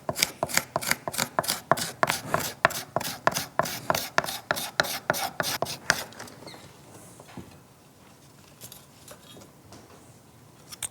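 Scraper with a sharp burr cutting a green wood handle held in a vise: a quick run of about twenty sharp, rhythmic rasping strokes, close and loud, then quieter scattered scrapes and handling noises.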